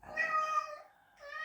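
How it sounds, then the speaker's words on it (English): A pet cat gives a single close, vocal meow, drawn out and rising, followed by the start of a second call, in a quiet room with no talking. "Sorry, that's my cat. He's very vocal"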